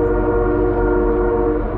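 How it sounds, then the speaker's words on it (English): A Canadian Pacific train sounds its horn at the Herkit crossing: one loud, steady, sustained horn blast that holds evenly for the whole moment, close and alone. "You're gonna hear the whistle in a second here, because as they're passing the crossing at Herkit."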